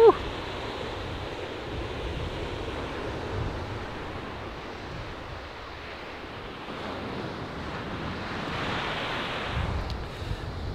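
Ocean surf washing onto a shore under steady wind noise, the low rumble and hiss continuous and broad across the whole stretch, swelling slightly near the end; the waves are small and gentle.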